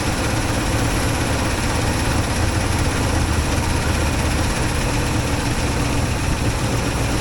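A 1964 IH Travelall C1100 engine idles steadily with a dense, constant low rumble, close and loud throughout, no voices over it.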